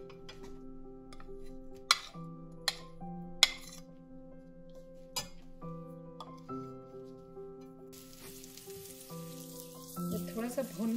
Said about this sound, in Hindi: पहले इसमें लहसुन और अदरक डालकर इसको हल्का सा पका लेंगे।